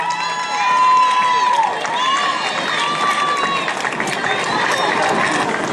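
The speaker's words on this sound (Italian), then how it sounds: "Li accogliamo con un fortissimo applauso." Crowd at an outdoor folk evening cheering and clapping to welcome a Sardinian folk group, with whistles, shouts and children's voices mixed in; talk is heard amid the noise.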